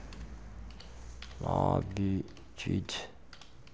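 Keys on a computer keyboard clatter in faint, quick clicks during the opening second, then a person speaks over and after them.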